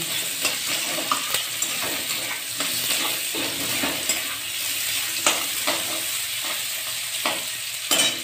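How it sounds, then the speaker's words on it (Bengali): Onions frying in a pan for shahi paneer, stirred as they cook, give a steady close sizzle with repeated scraping and stirring strokes throughout, with no talking. "এগুলো একটু ভাজা ভাজা করে নিই।"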